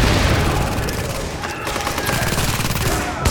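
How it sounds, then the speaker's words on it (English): Shotgun fire and other gunfire from The Division crackle in a loud, dense barrage of overlapping shots, with a sharp burst near the end. "Taking that guy out with a shotgun, man."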